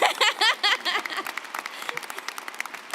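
A voice rises over cheering at first, then scattered audience clapping at a college commencement address continues, fairly close and thinning out toward the end.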